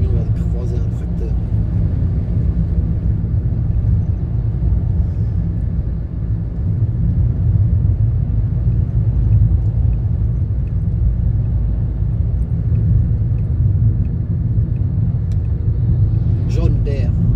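Road rumble from inside a truck cruising along a country road as it passes a tractor, a steady loud low drone filling the whole stretch with no distinct pass-by peak.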